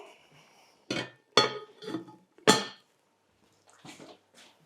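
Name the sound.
lid put on a pan of bolognese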